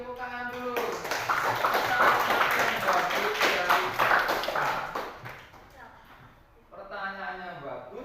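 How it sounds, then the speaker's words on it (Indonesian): Classroom applause for a student's correct answer in a teaching session, a burst of quick, scattered hand claps from a small group that lasts several seconds, fades, then gives way to a voice speaking. "tepuk tangan dulu"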